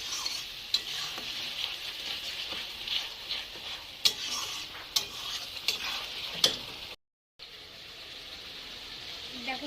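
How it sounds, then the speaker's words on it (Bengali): A spice masala with turmeric powder is stirred and fried in a pan. A constant close sizzle runs under sharp intermittent spatula clinks, with a brief dropout near the end. "মশলাটা আমি কষিয়ে নেব"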